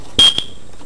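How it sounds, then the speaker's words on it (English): A household smoke alarm giving a short piercing high beep, followed by a quick second chirp, loud and close, with no talk over it. "Stop beeping."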